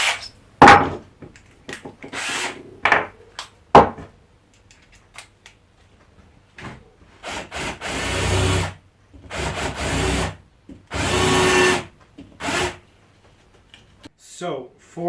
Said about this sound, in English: I'm just going to use a countersink then just to clean it up fully.